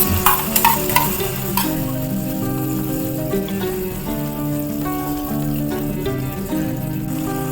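Mutton kheema with green paste sizzles and fries steadily in a pan, with a few clattering stirs early on over the constant crackle.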